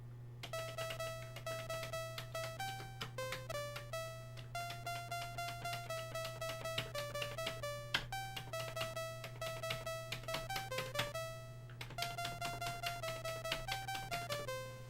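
Jingle Bells picked out note by note on a Commodore 64 piano program, crisp synthetic tones with short unsustained notes in a bouncy rhythm over a constant low hum, alone without talk.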